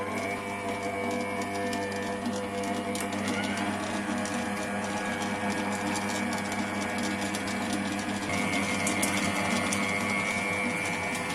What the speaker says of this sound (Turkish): Yumurtaları bir karıştırsın bakalım.